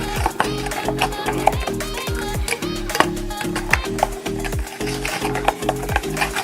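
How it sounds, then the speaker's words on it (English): A big spoon mixes sugar granules into mashed ripe banana batter for fritters, giving a steady gritty scraping and squelching with repeated stirring strokes, close and fairly loud, with clinks against the bowl throughout. "So we're going to mix it. You can hear the sugar granules."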